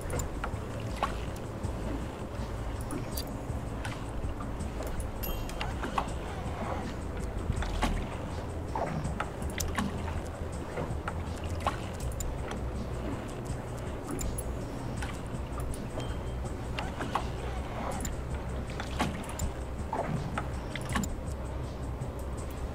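A fishing boat engine in a North Atlantic fishing video game runs with a steady low rumble, accompanied by scattered clicks and rattles.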